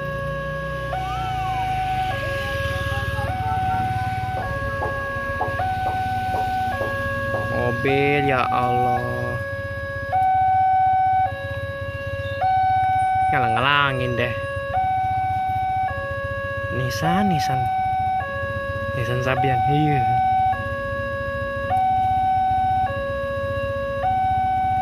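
Railway level crossing alarm at PJL 32 Tegal Yoso near Sentolo, Yogyakarta, as the barrier lowers. A loud, steady two-tone alarm alternates continuously, with people chatting nearby and occasional passing vehicle noise.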